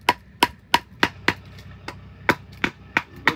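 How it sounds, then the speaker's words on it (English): A Spyderco knife blade has its tip struck with a hammer, about ten sharp, ringing metallic blows in a fairly regular rhythm. They are close and loud, with no speech. "I'm hammering the point, the tip of the blade."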